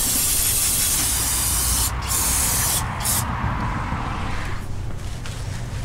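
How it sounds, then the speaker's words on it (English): A loud, continuous brake cleaner spray hisses nearby onto oily gloves during a John Deere oil change, briefly pausing twice before resuming, then tapering off near the end. "Got some brake cleaner. Spray your hands off, get that oil off your gloves."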